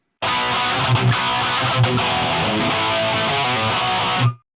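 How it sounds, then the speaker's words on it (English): A dense, heavily distorted Randy Rhoads-style electric guitar tone from a Line 6 Firehawk FX, without reverb, plays sustained chords, dry and close, cutting off abruptly at the end. "Now let's hear the tone without reverb."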